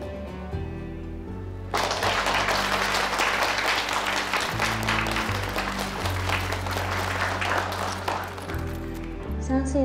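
An audience applauding at a book event, a sustained loud round of clapping that rises suddenly after a brief quiet stretch and fades near the end, with low music or voices beneath.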